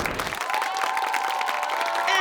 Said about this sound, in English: big round of applause for Sheridan Technical High School